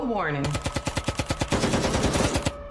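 A rapid burst of automatic gunfire, a long string of sharp shots fired in quick succession, preceded by a brief falling whine.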